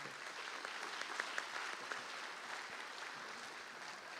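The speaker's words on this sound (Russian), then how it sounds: "Аплодисменты." Steady audience applause fills a hall at the closing ceremony of the Cheboksary International Film Festival, a dense, even wash of many clapping hands held at constant loudness throughout.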